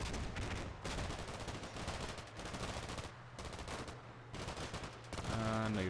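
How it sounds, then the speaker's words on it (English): Rapid bursts of machine-gun and rifle fire rattle in the Combat Mission: Black Sea war game, coming in dense volleys with short pauses between them, while a quiet voice can be heard faintly underneath near the end. "Random fire doesn't look like it's hitting anything."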